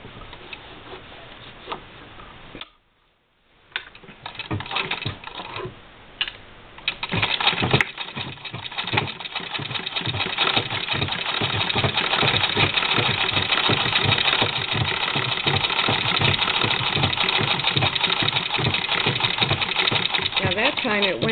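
Sewing machine with a walking foot stitching through bulky sweater quilt seams, a steady rapid mechanical ticking run that starts after a brief pause and continues loud and close, with a voice talking over parts of it.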